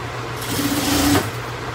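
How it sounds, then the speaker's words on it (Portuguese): A sewing machine topstitches along the edge of a seam in one short, steady, close run of stitching lasting under a second. "Eu gosto de rebater sempre na beiradinha da costura."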